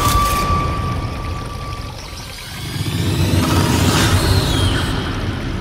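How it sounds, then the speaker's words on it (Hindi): A waterfall stream runs along a river in a forest, a steady broadband rush and splash that swells slightly toward the middle, close and continuous, with no voices. "इस नदी के सहारे, झरना जो बह रहा है इसी के सहारे ऊपर चढ़ने की कोशिश कर रहा हूँ"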